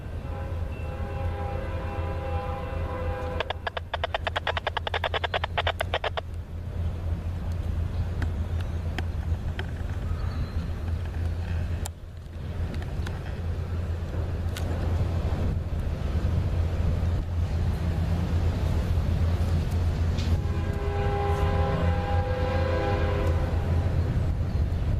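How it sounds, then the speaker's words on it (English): A Norfolk Southern NS-14N mixed freight train rumbles past near Alliance, Ohio, with a loud continuous low roar of wheels and cars, horn blasts sounding in two bursts, and no talking. "This train is NS-14N, a mixed freight."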